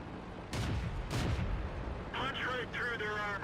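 Artillery fire in the tank battle game World of Tanks: two heavy booming blasts close together, followed by higher-pitched in-game tones and rumbling, loud and near.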